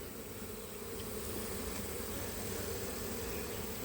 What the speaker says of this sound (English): you can definitely hear them dive bombing the suits